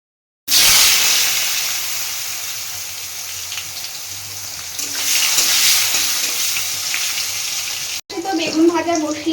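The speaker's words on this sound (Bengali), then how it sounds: "তার মধ্যে বেগুন ভাজাটাও হয়ে যাবে" Eggplant slices frying in a pan, a steady broadband hiss running for several seconds, loudest near the start and swelling again midway, before a short pause and some nearby clatter and faint voice.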